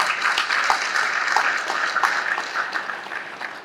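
An audience at a university administration lecture claps, producing a steady wash of applause with a few sharper individual claps that tapers slightly toward the end.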